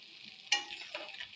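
Small fish being stirred and fried in spice paste in a pan, a steady close sizzle with a sharp scraping stir burst midway and another softer stir near the end, no talking.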